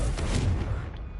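An explosive Confringo spell from the Hogwarts Legacy video game bursts as a deep, heavy boom that rumbles through the whole short moment, loud and close with no talk.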